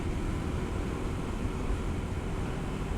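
Kawasaki KLX300 dual sport motorcycle cruising in top gear at about 50 mph on a highway, a steady loud engine drone mixed with rushing wind, with no talking.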